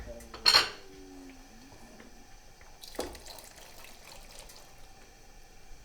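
Cooked beans tipped into a pot of ribollita, kale soup with bread, giving a sharp clatter of metal on the pot, a softer knock a few seconds later, then quiet kitchen background.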